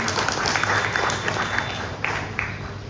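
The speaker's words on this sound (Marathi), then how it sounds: "सर्व कलाकारांनी आणि व्याख्यात्यांनी जे सादरीकरण केलं त्यांच्याकरता खूप खूप टाळ्या" Audience members at a cultural gathering clap for the performers in a steady, dense round of applause, close and even throughout, with a few sharper claps standing out.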